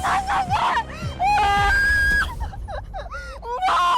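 A woman screams and wails at night, with long rising and falling cries, loud and close, broken by sobbing gasps and short breaks, with no other voices.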